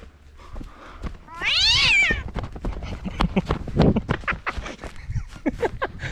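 A cat meows loudly and close by in one long, drawn-out call, followed by fainter mewing amid clattering and rustling noises outdoors.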